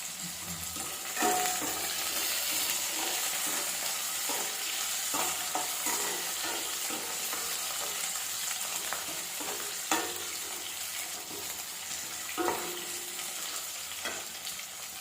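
Onions and curry leaves sauté in oil in a pan with a bright, continuous sizzle, punctuated by intermittent scraping stirs of a spoon, close and steady, with no voices.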